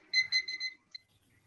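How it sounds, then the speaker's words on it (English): A timer alarm beeps in a short burst of four quick electronic tones, then falls quiet before one final lone beep, clear and close. "Now we're going to set the timer."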